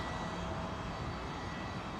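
Steady, broad roar of an aircraft engine as a plane lands on the southern runway at London Heathrow in fog, continuous and even without breaks.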